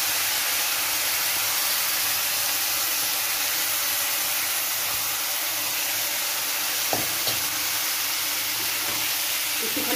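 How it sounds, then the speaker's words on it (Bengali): Moong dal and broken wheat sautéing in a pan, a steady close sizzle and hiss throughout with a couple of brief stirring knocks near the end. "একটুখানি কষিয়ে নিলাম"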